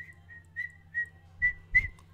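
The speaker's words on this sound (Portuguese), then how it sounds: "Quando você assobia" A person demonstrates whistling, several short clear whistled notes followed by two louder, breathier ones, heard alone in a quiet setting.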